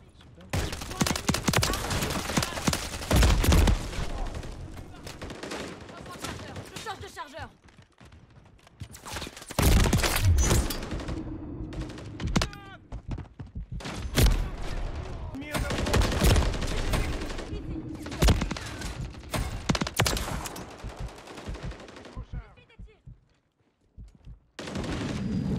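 Call of Duty MW3 gunfire on the Rust map, with bursts of rapid shots and heavy single cracks from a sniper rifle, loud and close, and players talking over much of it.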